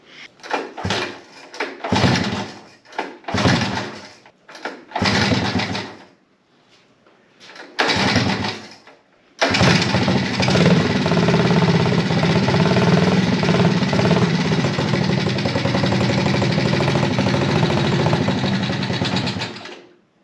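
A 1978 Honda ATC 90 trike with fuel newly fed to the carburetor cranks in several short, choppy bursts with pauses between. It then catches and runs steadily and loudly for about ten seconds before cutting off.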